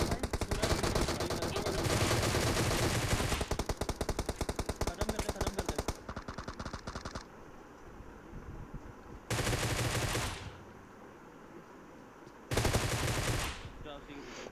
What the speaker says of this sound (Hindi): ग्रोजा क्या ही गन है, 2-3 गोलियों में बंदे का काम तमाम